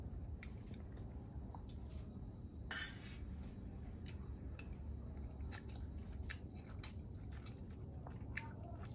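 Someone eating dal with a vegetarian thali makes soft, quiet chewing and squishy mouth sounds, with a few sharper clicks scattered through, close to the microphone.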